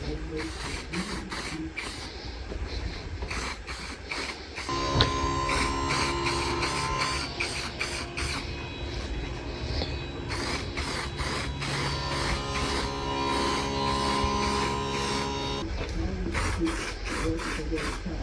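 Someone sands the body of a Fiat 126p with 400-grit sandpaper over spray primer, making a steady, continuous rasping scrub that runs throughout at moderate volume, with some rhythmic strokes.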